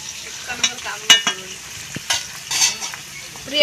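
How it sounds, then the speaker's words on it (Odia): Potatoes fry in a pan, giving a close, steady sizzle broken by scattered clinks and scrapes as they are stirred. "ଆଳୁ ଭଜା ଚାଲିଛି।"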